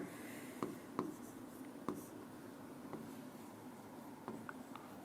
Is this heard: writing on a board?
yes